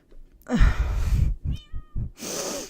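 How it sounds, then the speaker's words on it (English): Several domestic cats meow close by, a drawn-out meow followed by a string of shorter, choppier cries and a final breathy yowl, with no one talking. "I'm sure you got to listen to a lot of cats"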